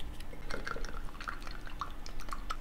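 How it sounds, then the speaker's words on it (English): Aspen bark preservative powder is dumped into water, producing soft, close drips and small splashes at an uneven pace. "Aspen bark dissolves very nicely in water, so we'll just dump it in."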